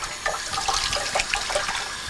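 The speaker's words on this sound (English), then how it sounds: "Excuse me for just a moment as you're gonna hear the water running." Water runs steadily from a tap while someone washes dust off their hands, a close continuous splashing hiss with small bursts as the hands move under the stream.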